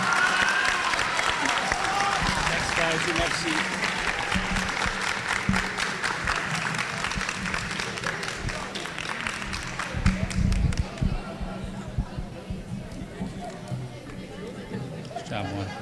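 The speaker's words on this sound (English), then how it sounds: "let's give a big round of applause for both of our Citizenship Award winners" A crowd applauds steadily for about ten seconds at a junior high awards ceremony for Citizenship Award winners, with cheers and chatter mixed in, before the clapping thins out and a voice speaks briefly.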